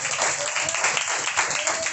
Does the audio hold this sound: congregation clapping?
yes